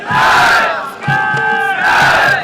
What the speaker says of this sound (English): They'll cheer the cadets of the passing out course.